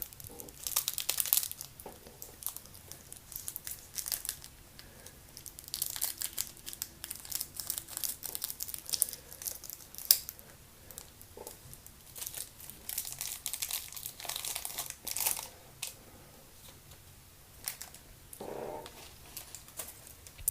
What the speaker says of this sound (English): So, I'm gonna open this package up.